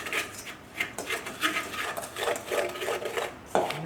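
Lemon biscotti glaze being stirred in a bowl, with quick, repeated scraping and tapping of a utensil against the bowl in an uneven rhythm, close up and fairly quiet.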